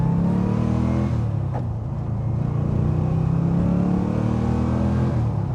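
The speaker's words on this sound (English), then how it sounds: "Even under engine braking, the car almost stops dead because the engine's got so much grunt." A De Tomaso Pantera's engine rumbles loudly and close, revving and then holding a deep, throaty drone under engine braking, steady and continuous with no talking.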